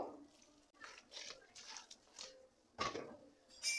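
Water is poured over a whole duck being soaked in hot water before plucking, heard as a series of splashing pours and patters, fairly faint, with a couple of louder gushes.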